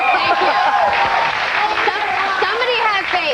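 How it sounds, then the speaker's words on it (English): A lively studio audience cheers and applauds during a 2000 talk-show interview with an actress, loud dense clapping mixed with whoops and crowd voices throughout. "these guys would cheer pretty much anything you said at this point"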